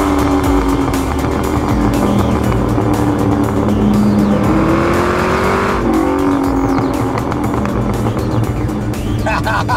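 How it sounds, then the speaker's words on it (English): A custom Porsche 928 pickup conversion built in South Africa accelerates hard, its V8 engine droning loudly and rising in pitch through the pull, with a voice speaking over the engine. "I can already feel all the acceleration that, hey, this thing's got power."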